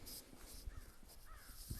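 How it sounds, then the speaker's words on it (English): Crows cawing outdoors on a snowy-feeling morning, several short harsh caws spaced apart at moderate distance against a soft ambient hiss, no talking. "there are ravens and crows. Maybe it's crows."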